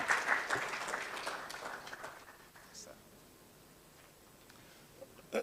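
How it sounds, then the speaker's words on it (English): Applause from an audience at a West African health launch event rises briefly and fades within a few seconds, moderately distant, with a voice over it; a quiet room follows. "Please help me with a big round of applause."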